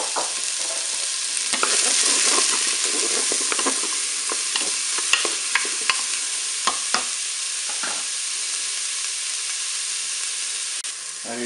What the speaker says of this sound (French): je vais mettre mes morceaux de courgettes dans la cuve.